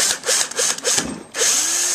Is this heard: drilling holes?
yes